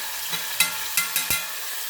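Tomatoes frying in a pan for a tomato curry, stirred with a few distinct knocks of a spoon on the pan over a constant hiss, close and without talk.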